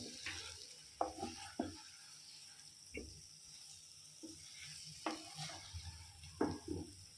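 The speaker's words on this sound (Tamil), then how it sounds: "மெதுவாக தான் இதை கலக்கணும்." Quiet, steady sizzling with intermittent scraping stirs of a utensil through thick boiled-egg omelette masala gravy in a pan, irregularly spaced and fairly close.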